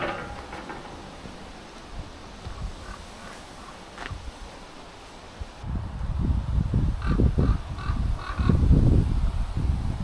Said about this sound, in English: doubt you could see the raven, but you can certainly hear him